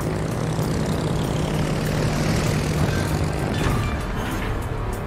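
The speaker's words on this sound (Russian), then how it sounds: "Истребитель взлет произвел" Fighter aircraft take off in the World of Warships video game, a loud, continuous propeller-engine drone sustained throughout at close range.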